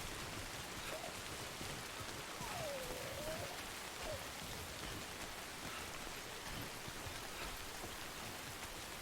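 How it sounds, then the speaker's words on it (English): Steady rain falls across a video game scene, a dense even hiss that never lets up, with a few faint whistling tones drifting through early on. "the rain's actually damaging my packages right now"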